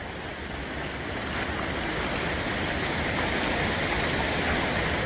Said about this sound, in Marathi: पाण्याचा वेग ही भरपूर मोठ्या प्रमाणामध्ये आहे.